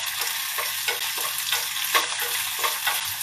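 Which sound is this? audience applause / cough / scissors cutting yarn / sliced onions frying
sliced onions frying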